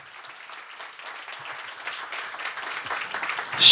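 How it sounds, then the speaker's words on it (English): An audience claps, the applause building steadily from soft to loud over a few seconds. "But I'd like to give Emelie a big round of applause."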